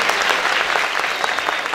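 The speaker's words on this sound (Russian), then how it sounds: "Ваши аплодисменты" Loud, close applause from a concert audience, many hands clapping in a dense, continuous patter with no voices over it.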